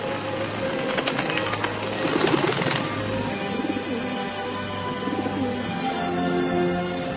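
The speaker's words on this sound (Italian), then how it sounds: "E lo Spirito Santo discese su Gesù in forma di colomba" A dove coos in a low, repeated rhythm over a steady background drone, fairly close and clear, with no voices.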